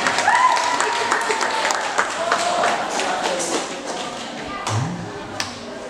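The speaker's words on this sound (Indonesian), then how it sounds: "Tepuk tangan." Applause at an announcement of competition winners for a Heroes' Day school event, a ragged burst of clapping with a thump near the end, heard with voices talking over it.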